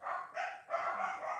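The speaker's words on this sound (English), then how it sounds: "Excuse me if you can hear my dogs barking." Dogs barking in a home, a few sharp barks in quick succession, fairly faint and in the background.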